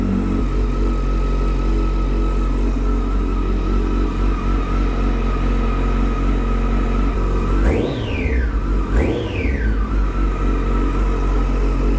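A Yamaha FZ motorcycle with a lingering mechanical noise after a clutch repair idles steadily and close by, with two quick throttle blips rising and falling near the end; no talking.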